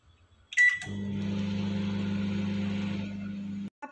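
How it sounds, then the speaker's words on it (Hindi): A steady low electric hum with a mechanical drone runs for about three seconds after a short click, then cuts off abruptly, from an LG microwave oven running on high power. "और इसे 30 सेकेंड के लिए हम माइक्रोवेव करके लेंगे।"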